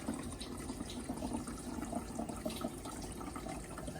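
A countertop ice maker circulates water inside, a steady close trickling and gurgling with soft bubbling that runs on without a break.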